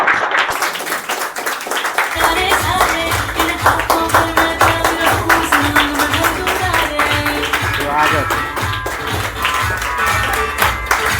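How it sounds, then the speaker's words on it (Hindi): An audience at a stage event claps loudly to welcome a performer onto the stage. Dense applause opens the stretch, then a thumping music beat and a voice join in over it. "जोरदार ताली स्वागत करिए"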